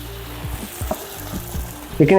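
Chicken pieces hitting hot oil with cumin seeds in a pan for chicken noodles, loud sizzling and frying with scraping stirs and a sharp metallic clink at the end.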